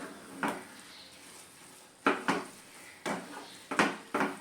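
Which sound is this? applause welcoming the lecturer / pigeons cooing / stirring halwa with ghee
stirring halwa with ghee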